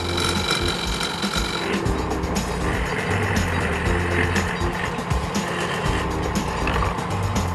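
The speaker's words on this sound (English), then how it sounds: "So that's really roughing the bowl out." A wood lathe roughs out a wooden bowl, giving a loud, continuous rattling, chattering cut with a rapid mechanical pulse and a gritty scraping texture, close and steady throughout without speech.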